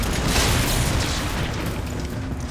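A rocket launcher explosion in Resident Evil 3 sets off a loud, broad rumbling blast that roars and holds for about two and a half seconds before easing slightly.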